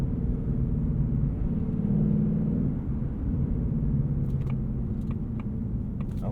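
A 2024 Ford Mustang Dark Horse exhaust in quiet mode gives a steady, low, muted rumble while idling or cruising gently, with no revving and no voices.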